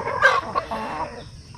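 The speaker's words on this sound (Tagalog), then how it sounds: "So ito yung ating mga manok dito, no, sa range area." Chickens in a muddy outdoor range area during a rainy typhoon give a brief burst of clucking and squawking, fairly close and loud, lasting just over a second.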